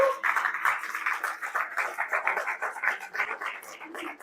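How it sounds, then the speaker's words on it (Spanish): A church congregation applauding, with dense, even clapping from many hands that holds steady and fairly close for a few seconds without any talk. "Dale ese aplauso al Señor"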